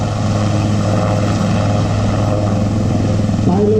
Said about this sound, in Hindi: पायलट अपने हाथों से हेलीकॉप्टर को कंट्रोल कर रहे हैं.